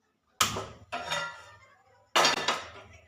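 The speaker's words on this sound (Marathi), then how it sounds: "गॅसवर आपण पॅन ठेवून घेऊया" A metal pan is set down on a gas stove in a quiet kitchen, making three sharp clanking knocks with ringing decay, the last a doubled clatter.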